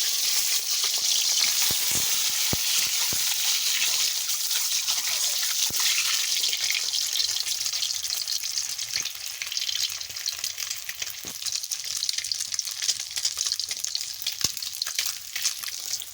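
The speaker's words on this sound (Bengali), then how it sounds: "বন্ধুরা তেল গরম হয়ে গেছে ডিমটা দিয়ে দিলাম" An egg sizzles and spatters in hot oil in a pan in a village kitchen, a continuous close frying crackle with scattered sharper pops and no voices.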